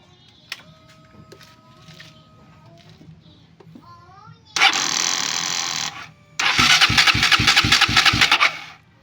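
The engine of a KTM RC 200 motorcycle with a stalling problem and a faulty spark plug cap cranks with a rapid rhythmic chugging. It comes after a burst of starter noise, close and loud, with faint sounds before.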